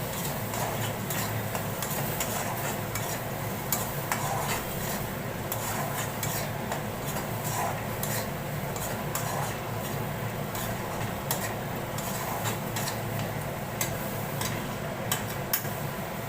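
A spoon stirs a potato mixture with turmeric, coriander powder, cumin and asafoetida in a pan for a capsicum potato dish, a steady, close scraping and rubbing that carries on throughout.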